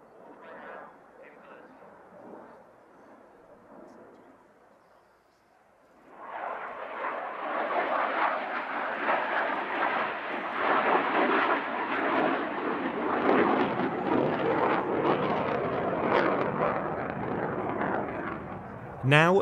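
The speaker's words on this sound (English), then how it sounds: "a full outside split S as the aircraft pushes minus 4G from a 60 degree climb back into level flight." A military aircraft flying aerobatics at an airshow, heard as a distant rumble that swells around six seconds into a loud, sustained jet roar that keeps going to the end. A commentator's voice is faint underneath.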